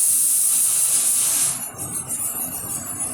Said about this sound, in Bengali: আর দেখুন, আমি দিয়ে দিচ্ছি সর্ষের তেল, একটু ছড়িয়ে দিচ্ছি।